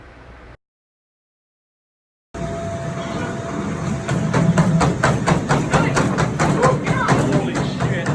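Rapid, steady footfalls pound a treadmill belt running at 16 miles an hour, loud and close with a constant machine drone, starting abruptly after a brief silence and growing heavier.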